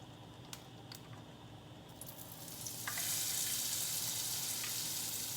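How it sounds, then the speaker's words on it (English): Beer-battered halibut fillet frying in hot oil in a pan, a steady close sizzle with scattered pops that swells louder and denser halfway through as the fillet goes in, with no talk. "Oil's nice and hot now. You can hear it popping and bubbling."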